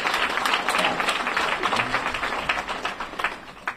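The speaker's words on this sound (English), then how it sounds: "So let's give a big round of applause to you for helping our fellow neighbors" Audience applause at a mayor's public event, a full crowd clapping steadily and fairly loud, thinning out and fading in the final second.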